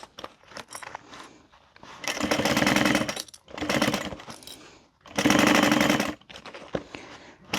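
A sewing machine stitches the gusset seam of a handbag in four bursts of rapid mechanical whirring, separated by short pauses and soft handling sounds, close and clear.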